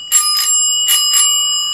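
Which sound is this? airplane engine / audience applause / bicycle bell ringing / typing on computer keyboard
bicycle bell ringing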